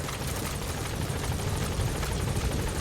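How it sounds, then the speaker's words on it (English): Support helicopter in Metal Gear Solid V: The Phantom Pain arriving, a steady loud rotor drone with broad wash that holds evenly throughout, with no voices over it. "Support helicopter has arrived."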